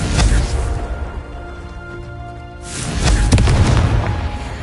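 A Confringo blast spell going off in Hogwarts Legacy, a loud rumbling explosion that fades and then a second heavy burst follows.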